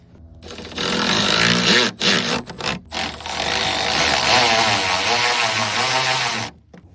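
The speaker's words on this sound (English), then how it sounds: "We're going to use the automatic ratchet." Cordless automatic ratchet driving tail light screws on a 2019-23 Ford Ranger, a close whirring motor burst that briefly stutters and stops, then runs steadily for several seconds before cutting off.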